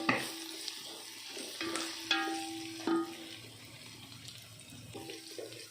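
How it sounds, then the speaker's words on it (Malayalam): Sliced onions added to hot oil with green chillies while making beef curry, giving a steady soft sizzle with metal spoon stirring and a few sharp clinks against the pan, close and alone. "നമുക്കതിലേക്ക് സവാള ഇടാം അപ്പോൾ സവാള ഇനി ഒന്ന് മുരിഞ്ഞ് വരണം"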